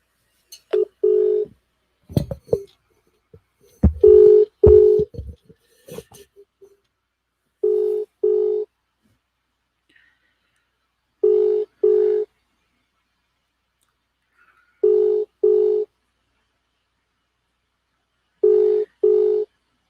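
A phone call is placed: a few scattered clicks and tones at the start, then a ringback tone repeating in pairs of short bursts at regular intervals, with silence between each pair.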